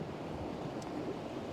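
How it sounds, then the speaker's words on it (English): Rough, windy sea surf breaking on the shore: a steady broadband wash of waves with wind buffeting the microphone, continuous and fairly loud throughout, with no voices. "a bit of a bigger surf, windy, rougher conditions"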